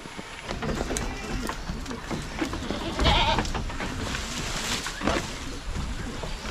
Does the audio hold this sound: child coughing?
no